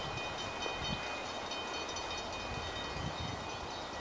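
A heavy train stuck on a hill rumbles and groans steadily at a distance as it strains to move uphill, a low continuous drone with faint metallic tones, no voices.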